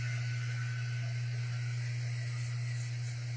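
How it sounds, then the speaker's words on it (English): A steady low mechanical hum with a constant airy hiss underneath, unchanging throughout, like an air conditioner running in the room. "and I have my air conditioning on. You can probably hear it in the background."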